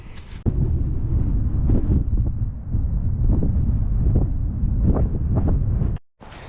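Strong wind buffets a microphone on a cliff top near a waterfall, a loud, low rumbling roar that gusts steadily for several seconds, cuts out briefly near the end, then returns.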